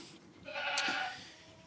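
A friendly mother goat on a small farm gives a single short bleat close by, a brief nasal call with a faint hum of background around it.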